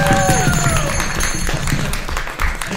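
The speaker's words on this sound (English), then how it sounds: "let's give our seance performers a round of applause" An audience claps in dense, sustained applause for seance performers at a steampunk convention panel, the clapping running loud and steady throughout, with some tonal sound over it early on.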